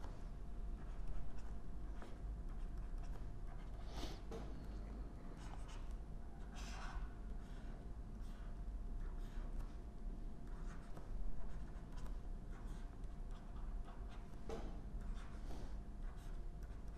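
Pen or marker writing as chemical structures are drawn, faint scratchy strokes with occasional sharper taps, close and quiet over a steady background hum.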